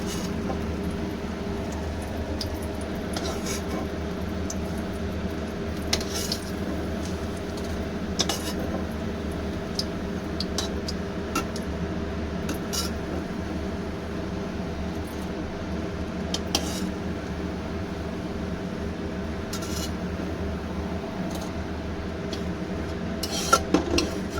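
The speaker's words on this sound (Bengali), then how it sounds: "বড়াগুলো ভাজা হয়েছে বড়াগুলো একটা একটা করে তুলে নিই" Fried lentil fritters lifted out of hot oil one at a time with a metal utensil: scattered light clinks and scrapes against a pan, spaced irregularly over a steady low kitchen hum.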